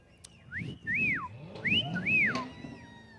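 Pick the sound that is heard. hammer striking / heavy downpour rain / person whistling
person whistling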